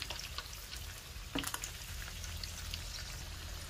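Vegetable cutlets (tikki) dropped into hot oil in a pan: a brief splashy sizzle burst, then a steady quiet frying crackle continuing close by.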